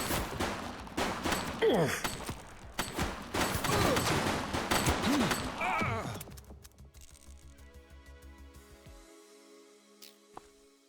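Bursts of gunfire from a fleeing suspect in the police game The Precinct, rapid loud shots over the first six seconds amid in-game voices, then fading to quieter scattered sounds and a single late crack.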